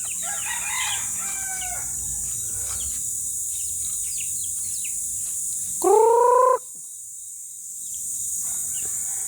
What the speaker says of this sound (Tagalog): Marami pala akong tandang.